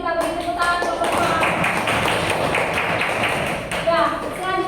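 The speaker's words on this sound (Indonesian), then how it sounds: "Kita beri tepuk tangan kelompok 2." Students in a classroom clap for group 2 after their presentation, a dense, continuous round of applause from many hands lasting several seconds, with voices talking over the clapping.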